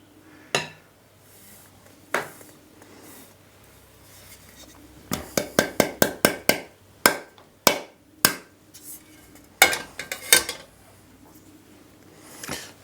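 A masher works flour into eggs for gluten-free buns, giving sharp clinks and taps against a bowl, first sparse and then in a quick cluster, with more scattered knocks afterward.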